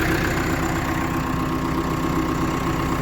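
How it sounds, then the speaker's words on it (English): A steady tractor engine drones and idles continuously, a low mechanical rumble with a faint hum, loud and close, with no voices. "gonna drive the tractor"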